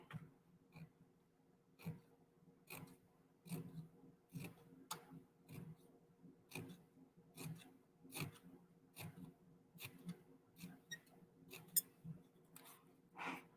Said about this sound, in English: My scissors were making a squeaky sound.